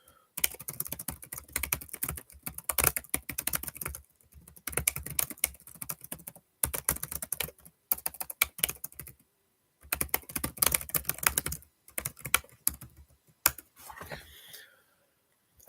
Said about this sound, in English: I'm just going to type it in the comments